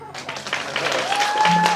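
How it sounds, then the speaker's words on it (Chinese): Wedding guests applaud at a Chinese wedding reception, a dense wash of clapping that builds and holds steady, with a brief tone and a few voices sounding under it. "掌声。"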